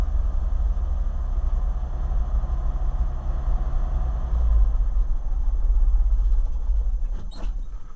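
A 1965 International R 185 truck engine idles just after a cold start with the choke on, making a steady, close, low rumble that swells slightly midway, with a brief clank near the end.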